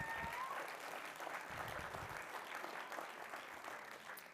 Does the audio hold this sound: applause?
yes